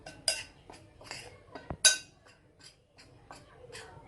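Bread dough being mixed with salt in a bowl for ham panini, heard as scattered close clinks and knocks of a utensil against the bowl, with short bursts of scraping between quiet pauses.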